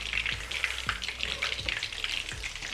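Fish, freshly caught off North Shields on the River Tyne, frying in a pan, with a steady close sizzle and crackle broken by soft periodic thumps as it is moved about.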